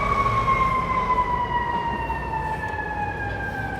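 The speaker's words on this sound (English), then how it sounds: "And we'll wait for the siren to come by." On 42nd Street in New York City, a passing emergency vehicle wails with a steady siren tone that slowly drops in pitch, loud over the rumble of city traffic.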